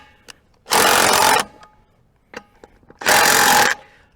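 A DeWalt impact wrench on a cheap 18V battery breaks loose nuts torqued to 65 pound-feet in two loud, rapid hammering bursts of under a second each, with small clicks and handling noises between them.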